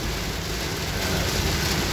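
Heavy rain pours onto a car windshield, a dense, constant patter and hiss heard loud and close throughout.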